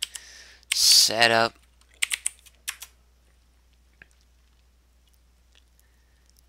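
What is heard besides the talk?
typing on a computer keyboard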